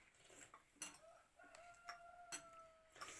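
Several roosters crow one after another, some near and some farther off, with a few sharp clucks between the calls.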